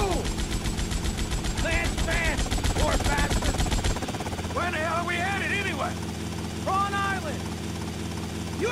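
A helicopter in the video game GTA Vice City drones with a steady rotor thrum that drops in pitch partway through, while voices talk over it.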